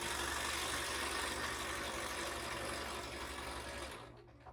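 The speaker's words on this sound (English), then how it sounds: "It can be really hard on these smaller sewing machines to quilt a big quilt" A standard home sewing machine quilts a large quilt, a faint steady motor hum with a fast even needle chatter that cuts off near the end, no voices.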